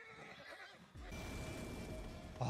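A horse whinnies in a video game, a short bright neigh followed by a noisy burst of hoof or movement sound, fairly quiet and alone without talk.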